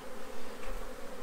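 Honeybees buzz close at an orchard apiary hive, a dense, steady hum of many wings that holds for about a second with no voices.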